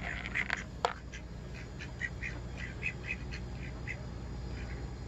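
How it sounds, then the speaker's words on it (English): A duck gives a string of soft, close quacks in irregular bursts over steady outdoor background noise, heard at a lakeside spot where carp are being fed. "See the duck beside you?"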